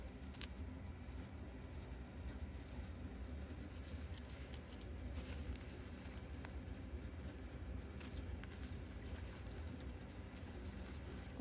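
Scissors cutting ribbon on a small paper folio make a few faint, brief snips close by over a steady background hiss.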